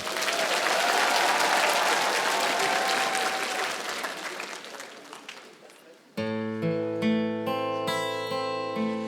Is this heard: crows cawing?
no